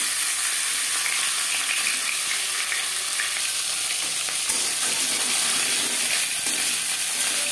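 A fish head fries in three spoonfuls of refined oil in a kadai, giving a loud, dense, continuous sizzle and spatter up close, with no talk over it.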